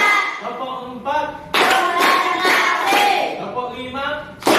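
Schoolchildren in a classroom doing a counted clapping routine, a burst of several quick claps from the group mixed with children's voices calling out, loud and close.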